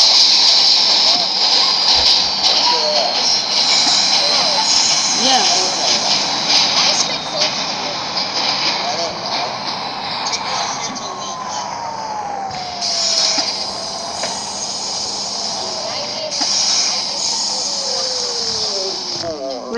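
An R62 subway train on the 3 line runs in the Hmmsim 2 game, its steady motor hiss and rumble carrying the whole time while rising and falling electric whines sweep through, with brief shifts in level along the way.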